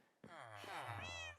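A cat in the Minecraft video game gives a single drawn-out meow, clear and close, lasting just over a second with a rising then falling pitch.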